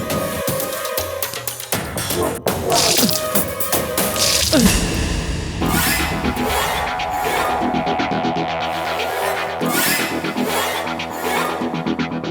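Water splashes and drips in a burst, with a loud, busy musical background carrying on throughout.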